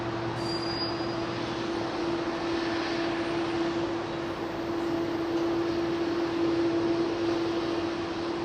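A jet airliner departs Heathrow's runway 27 right, a steady, fairly distant roar with a sustained engine whine that holds evenly throughout.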